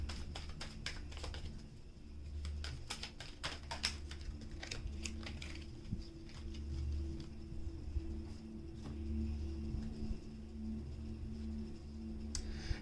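Tarot cards being shuffled, a quick flurry of crisp riffling clicks and taps at the start that thins into sparse faint ticks, over a steady low background hum.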